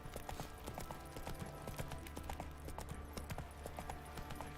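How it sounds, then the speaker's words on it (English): Horse hooves clip-clop steadily in the video game The Witcher 3: Wild Hunt, a moderately quiet, even trotting rhythm over ambient game sound. "Come on, Roach."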